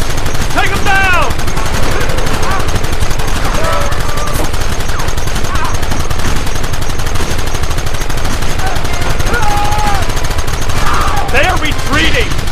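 Dense, continuous gunfire in Red Dead Redemption, rapid overlapping shots from several guns, loud and close, with shouted voices and a horse cutting through the barrage.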